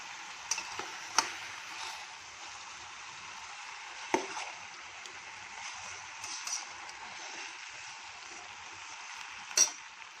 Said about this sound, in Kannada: ಸ್ವಲ್ಪ ಬದನೆಕಾಯಿ ಹಾಕ್ತೀನಿ ಕಟ್ ಮಾಡಿರೋದು. ಇದು ಸ್ವಲ್ಪ ಚೆನ್ನಾಗಿ ಫ್ರೈ ಆಗಲಿ.